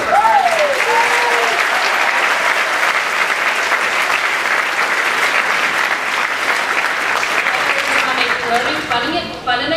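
A large audience applauds at a school graduation ceremony, a dense, sustained wash of clapping filling the hall, with a loud voice speaking over it at the start and again near the end.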